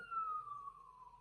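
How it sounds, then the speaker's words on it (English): An ambulance siren sounds faintly in the distance as a single smooth tone gliding slowly downward, heard alone for about a second. "hold on, ambulance"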